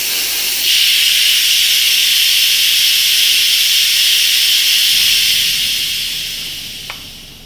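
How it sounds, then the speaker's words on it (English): Steam hisses loudly and steadily from the pressure release valve of an Instant Pot, a continuous close rushing jet that holds for several seconds before tapering slightly. "I'm going to release the valve and the steam is going to come out from it"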